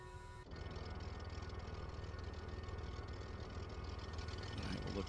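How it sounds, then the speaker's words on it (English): The left piston engine of a BlackSquare Baron idles steadily in a flight simulator game after its start, a low continuous drone that stays even throughout, with a brief softer moment at the very beginning and no talk. "we'll go ahead and get the left engine started"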